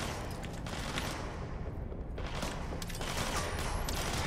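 Gunfire in the video game Control, a dense rattle of rapid shots and impacts, fairly loud and continuous with a brief lull midway, no talking.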